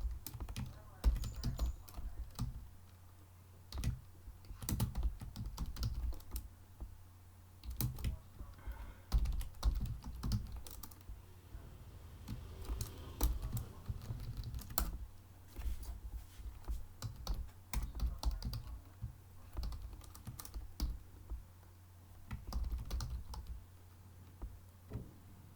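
Keyboard typing throughout while Python code for Django Channels WebSocket endpoints is written, with irregular bursts of close keystrokes over a low steady hum.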